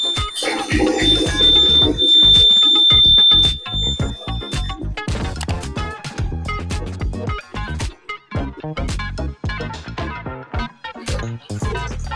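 A wireless water tank overflow alarm built on ESP-Now modules sounds a steady high electronic beep for the first few seconds. A busy layer of louder rhythmic clatter and other sounds runs underneath it and continues after the beep stops.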